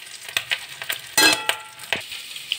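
Boras, crisp fritters, frying in a pan of hot oil with a steady sizzle and scattered crackles and pops, one louder burst of spatter midway, heard close up with no talk.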